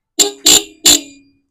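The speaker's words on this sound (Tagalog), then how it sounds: "Kaya ganyan ang tunog ng busina natin kasi yung pinaglagyan ay matigas." Three short, bright motorcycle horn beeps in quick succession, each a buzzy nasal tone with a brief ringing tail, loud and close with silence between; the horn is mounted on a hard surface and wired to the starter button.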